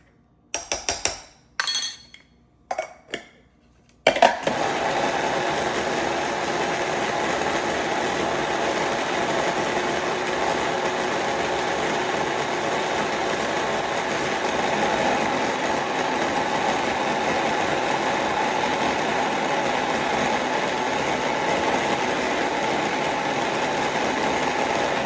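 Spices being ground into a homemade powder in an electric mixer grinder: a few short clinking pulses, then a loud, steady whirring roar that runs on without a break.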